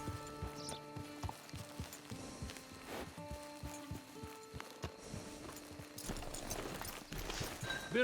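Horse hooves clip-clop at a steady walking pace in Red Dead Redemption 2, the repeated strikes mid-loud over a game music and ambience bed, with no talk.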